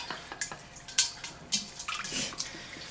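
Warm tap water runs and splashes over hands being rinsed during a manicure, a close, continuous trickle with uneven spattering bursts.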